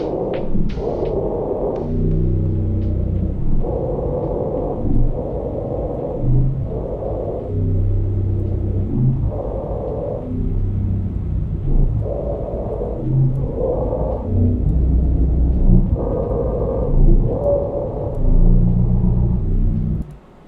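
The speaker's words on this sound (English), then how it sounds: "so I re-enabled the warp function and lowered it by 4 octaves" A human voice pitched down four octaves with warp enabled in Ableton to create a monster, turned into deep, rumbling, growling bursts that rise and fall in repeated phrases, loud and close.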